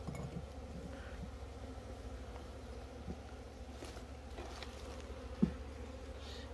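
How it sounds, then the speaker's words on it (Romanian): Honeybees hum in a low, steady drone at an open hive while it is inspected, with a faint single knock partway through. "albinuțe."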